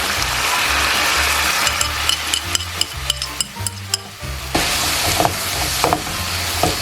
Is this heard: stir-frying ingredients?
yes